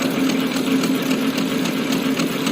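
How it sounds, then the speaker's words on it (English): A horizontal milling machine drives a profile cutter into the tooth of a helical gear on its twelfth tooth, making a loud, steady mechanical whir with a faint, regular pulsing as it cuts. "The tool is plunging its shape or profile on gear tooth."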